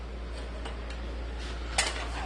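Pancakes cook in a pan under a low steady hum. Light clinks of utensils ring out a few times, with one sharper clink near the end, and no voices are heard.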